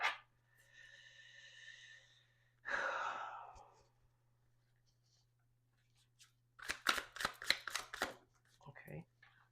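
Tarot cards are shuffled in a quick rapid riffle of close, crisp flicks near the end, following a breathy sigh and a low steady hum.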